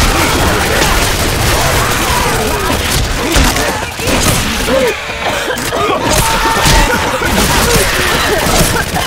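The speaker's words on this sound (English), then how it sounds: "Can you stop shooting me?" Counter-Strike gunfire on the Office map comes as rapid, loud bursts and thuds, rattling almost continuously with players talking over the shooting.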